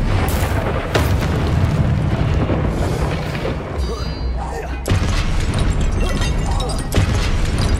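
Fiery Confringo spell blasts in Hogwarts Legacy boom loudly and repeatedly across dense, rumbling battle noise, with sharp crashes punctuating a continuous roar; a voice shouts over the chaos.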